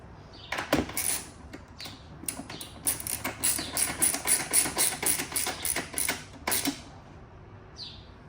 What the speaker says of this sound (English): we want to start by tightening the silencer first